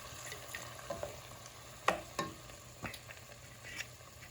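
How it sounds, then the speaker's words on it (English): Extra dry vermouth hitting a hot pan to deglaze it after cooking sausage, peppers and onions, with soft sizzling and a few scraping stirs of a utensil, fairly quiet and steady, no talking. "To deglaze the bottom of the pan, I'm going to say that's about 1/2 cup."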